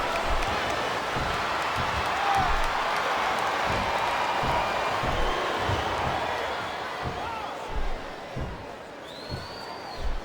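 A wrestling arena crowd at a WWE event murmurs and cheers as a steady, fairly loud roar while thuds from the ring land in an uneven rhythm, with commentators' voices talking over it.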